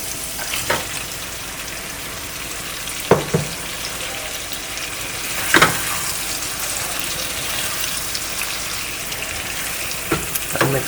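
Mutton liver sizzles steadily in a hot pan, with a constant crackling hiss broken by a few sharp pops and clatters of stirring.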